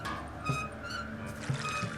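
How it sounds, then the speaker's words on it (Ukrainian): Water pouring and trickling in the puzzle video game Samorost 2, a steady liquid flow with soft splashy bursts heard close and fairly quiet throughout. "Вода пішла, вода пішла, добре."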